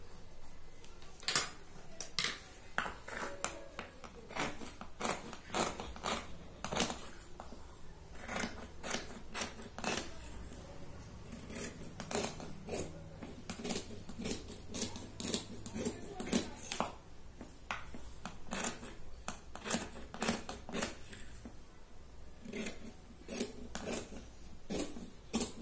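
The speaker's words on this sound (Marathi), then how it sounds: "टक्स आपण इथे कट करून घेतोय यानुसार." Scissors cut blouse fabric at the tuck point for a prince cut blouse: a long run of quick, crisp snips, close and fairly quiet, with irregular rhythm and brief pauses between bursts.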